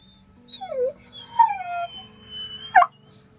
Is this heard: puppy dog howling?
yes